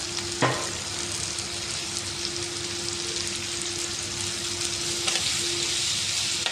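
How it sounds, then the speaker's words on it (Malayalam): Green chilli, garlic, ginger and curry leaves sauté in hot oil in a pan, giving a steady close sizzle throughout with a couple of brief stirring clatters. "വെളുത്തുള്ളി ഒരു കഷ്ണം ഇഞ്ചി പിന്നെ കുറച്ച് കരിയാപ്പില ഇതെല്ലാം കൂടെ നമുക്കൊന്ന് വഴുക്കി എടുത്തുകൊണ്ട് വരാം"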